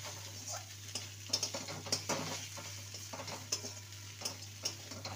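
Pointed gourd and shrimp mash with mashed dried chillies and chopped coriander stirred in a pan, soft scraping and tapping strokes in an uneven rhythm over a faint steady hum, close and quiet, no talking.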